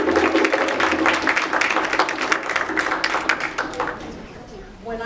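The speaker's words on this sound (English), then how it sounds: "Let's give Cheryl a warm applause" Warm applause from an audience for a social activist being honoured, steady crowded clapping with sharp individual claps standing out, fading slightly toward the close.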